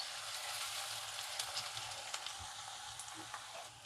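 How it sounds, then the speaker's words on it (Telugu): Onions for mutton curry frying in a pan, browning with a faint, even sizzle and small scattered crackles, quiet and close with no talk. "ఉల్లిపాయలు చక్కగా వేగే వరకు వేయించుకోవాలి."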